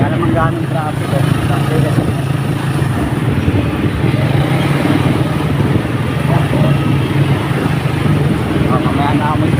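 Busy road traffic with motorcycles passing close by, a steady loud engine drone and rumble running throughout with no pauses.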